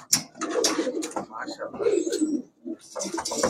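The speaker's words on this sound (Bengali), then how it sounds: "যেটাকে বলা যায় ভয়ঙ্কর সুন্দর কবুতর" Pigeons coo in low, throaty bursts inside a pigeon shop selling racer and Pakistani breeds, close by and mixed with someone talking over them.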